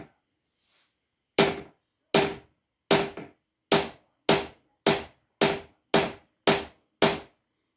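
Hammer blows pound on the seized piston of a 1952 Scott Atwater 7.5 hp vintage outboard motor, about ten sharp metallic strikes in a steady rhythm, close and loud with a short ring after each.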